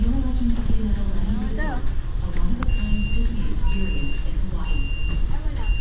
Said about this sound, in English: Something beeping.